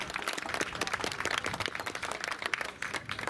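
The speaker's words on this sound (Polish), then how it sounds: "Wielkie brawa!" Steady, dense audience applause at a men's bodybuilding contest in Dobre Miasto, moderately distant and unbroken for the whole stretch, with no voices over it.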